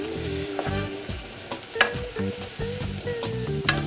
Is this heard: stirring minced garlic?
yes